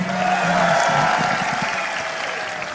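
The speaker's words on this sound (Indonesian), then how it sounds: "Boleh dong kita semua berikan tepuk tangan." Crowd applause welcoming Indonesian politician Anies Baswedan at a town-hall gathering with residents in Riau, a steady wash of clapping that softens slightly as it goes, with a voice and background tones present.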